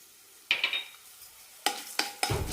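Cumin and coriander seeds with peppercorns sautéed in a pan, several quick scraping strokes of a spoon over a faint sizzle, close and fairly quiet, without speech.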